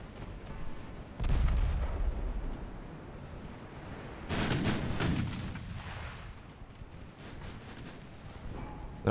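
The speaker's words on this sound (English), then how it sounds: "Now we're just gonna sail alongside and gun it down." Warship guns fire in a naval battle video game, with a few heavy booming blasts and explosions spaced several seconds apart, each followed by a rumbling decay under low background noise.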